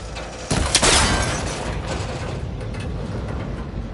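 A metal cable connector in Horizon Forbidden West breaking apart when shot: a sharp impact with a bright, crackling shatter, followed by a longer rumbling mechanical decay.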